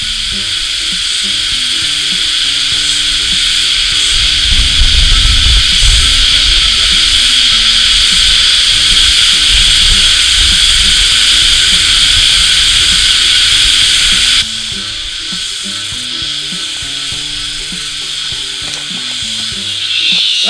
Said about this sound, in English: Australia's got this infestation of cicadas at the moment. Can you hear them?